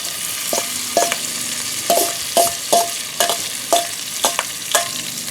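Vegetables for a pork and pepper stew sizzle in a pot on a Weber kettle grill, a steady frying hiss punctuated by regular scraping stirs and clanks of the utensil, close and without voices.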